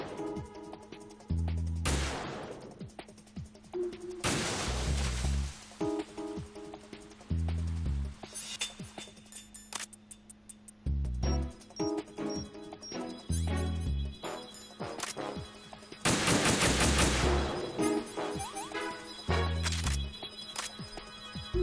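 PSG-1 sniper rifle shots in Metal Gear Solid 2 ring out as several loud, sharp reports, spaced a few seconds apart, each followed by a short decay, over a quiet game background.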